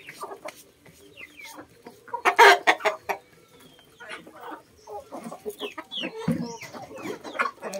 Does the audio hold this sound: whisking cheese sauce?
no